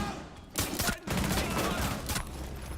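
Rapid gunfire bursts from Rainbow Six Siege crackle in loud close volleys, a dense stretch of shots followed by further firing that trails off, with no talk over it.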